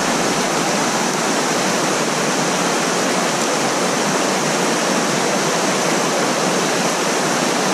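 A shallow, low river runs over rocks in a loud, steady rush of water that fills the whole scene without a break.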